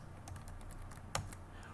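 Quick, light keystrokes on a computer keyboard, a soft continuous patter of typing with one sharper key click, close and alone.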